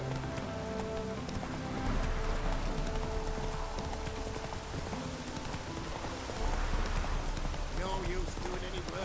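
Rain falls steadily in The Witcher 3: Wild Hunt, a constant hiss of drops on surfaces mixed with horse hooves clopping, as someone speaks over the scene.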